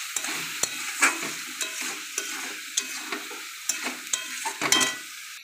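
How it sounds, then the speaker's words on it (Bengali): Turmeric-laced spice paste stirred in a pan, a spatula scraping in steady repeated strokes over a soft sizzle, close and alone with no voices. "এবার এটা নাড়তে লাগবে।"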